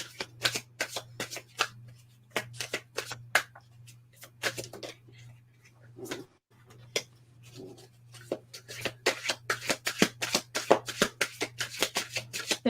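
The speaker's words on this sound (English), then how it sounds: "I'm just going to let you finish shuffling though" Tarot cards shuffled by hand close up, rapid crisp riffles and flicks in bursts, quieter in the middle and then busier again, over a faint steady low hum.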